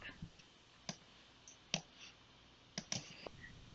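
A handful of sharp, isolated computer mouse clicks spaced irregularly in a quiet room while attaching a file, close and fairly soft, with no voices.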